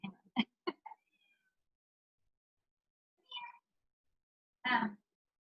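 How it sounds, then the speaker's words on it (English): A house cat meows several times indoors: a quick run of short cries at the start, then two longer, louder wails spaced apart, with silence between them. "Cat's crying."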